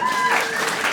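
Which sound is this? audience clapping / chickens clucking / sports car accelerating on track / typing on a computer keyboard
audience clapping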